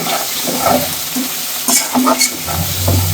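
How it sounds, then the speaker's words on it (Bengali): Shrimp marinated in turmeric and salt fry with onion and chilli in a pan, giving a steady loud sizzle broken by clinks and scrapes of a spatula stirring. "এটা খুব সুন্দর করে আমি এখন ভাজা ভাজা করব"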